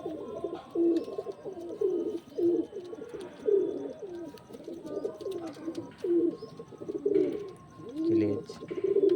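Pigeons in a home loft coo in repeated rounded phrases throughout, close and fairly loud, with overlapping birds and faint chirps in the background.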